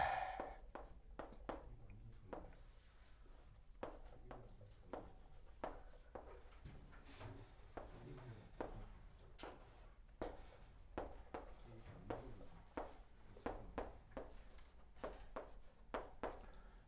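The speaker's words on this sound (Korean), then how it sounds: "자, 그래서 그 표현을 한번 써볼게요" Chalk or marker strokes on a board during a chemistry class form a quiet, steady run of short taps and scratches in uneven rhythm, faint against a soft room background.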